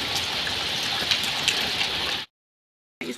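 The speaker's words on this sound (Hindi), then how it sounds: "ये देखिए कितनी भयंकर तेज़ बारिश हो रही है" Very heavy monsoon-style rain pouring steadily in a village, a dense loud hiss with scattered drop spatters, cutting abruptly to silence before resuming briefly at the end; no talk.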